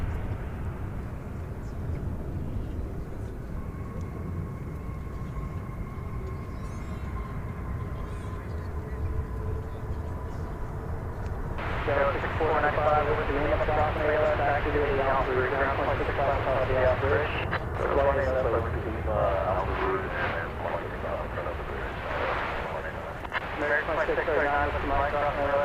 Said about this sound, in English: There you see a parallel takeoff there on the east side of the runway as we have a landing coming in here.